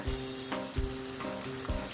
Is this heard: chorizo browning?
yes